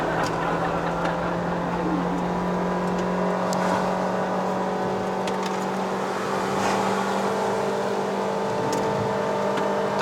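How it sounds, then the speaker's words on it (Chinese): A 2022 Honda City Hatchback 1.5V with a VTEC engine drones steadily from inside the cabin at high revs while climbing, a constant loud hum with a voice talking over it. "感觉到 VTEC 声有没有？"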